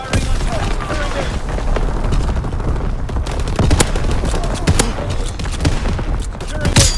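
Gunfire in a World War II video game battle: dense, continuous volleys of sharp shots and thumping blasts over a loud, rumbling combat din that runs the whole time.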